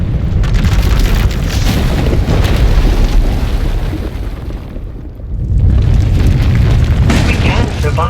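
A rumbling boom from an eruption of out-of-control power in Star Wars: The Old Republic, loud and sustained, dipping briefly in the middle before surging back, with speech heard over it.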